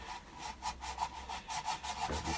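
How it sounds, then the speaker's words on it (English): A cloth rubs a wooden yarn bowl by hand to polish it, a steady run of close, rhythmic back-and-forth strokes, each a soft swishing scrape, with no talking. "So I'm just going to use a cloth and a bit of elbow grease,"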